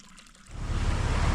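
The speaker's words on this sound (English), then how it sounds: "Warm water flows right out of solid rock where a hole was drilled to test the gold-silver content of the vein." Warm spring water runs out of a drill hole in solid rock at Kaiser Warm Spring, Arizona. It comes in as a steady, close, broadband rush and grows louder over a second, with no voices.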